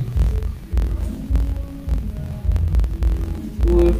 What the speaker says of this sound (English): I'm going to sew the bands.